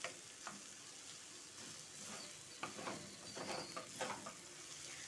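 Egg and amaranth leaves stir-fry in a pan with tomato, a continuous soft sizzle broken by repeated scraping and stirring strokes of a spatula, fairly quiet and close.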